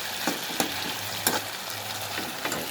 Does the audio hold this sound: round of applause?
no